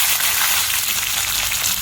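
Curry leaves crackle and sizzle steadily in hot oil with popped mustard seeds, a dense, continuous frying hiss close by with no voices.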